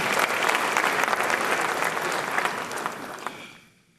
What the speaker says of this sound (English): Shall we appreciate him with a big round of applause?